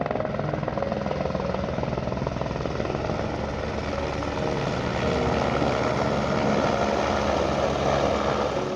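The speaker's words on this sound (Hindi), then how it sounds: "हेलीकॉप्टर जस्ट मेरे साइड से जा रहा है।" A helicopter flies close past on the snowy Kedarnath trek at night, its rotor chop and turbine whine loud and continuous, swelling slightly as it nears.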